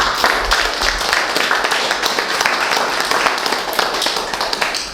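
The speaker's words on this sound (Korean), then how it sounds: "다시 한번 큰 박수 부탁드립니다" Audience applause at a small Korean concert of Isang Yun's music, a dense, steady patter of many hands clapping close by for the full stretch, with faint voices mixed in.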